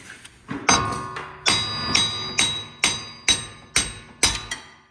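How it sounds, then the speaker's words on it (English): Eight sharp metallic hammer strikes ring out at a steady rhythm, each blow clanging loudly and decaying briefly before the next, as a big hammer knocks out wheel studs on a 2015-2021 Subaru WRX STI during wheel bearing removal. "you can just use a big hammer"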